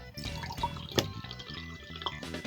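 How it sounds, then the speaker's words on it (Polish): Water is poured into a container during a green flame-colouring demonstration with copper(II) ions, a close, bubbly trickle with small splashes and drips at moderate volume. "Dodajemy trochę wody."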